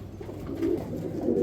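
Spanish pouter pigeons cooing at a pigeon sale, a low, continuous rolling coo from close birds, steady and fairly loud with slight swells.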